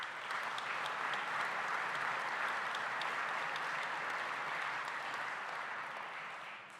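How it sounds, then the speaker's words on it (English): An audience applauds at a charity dinner supporting the Boys and Girls Club, a steady, dense wash of many hands clapping that holds evenly and tapers slightly at the end. "So a round of applause for the Finney Group."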